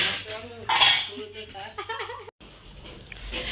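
A small child at home plays with metal spoons, producing scattered light clinks and clatters amid nearby adult speech and household sounds, with a brief dropout partway through.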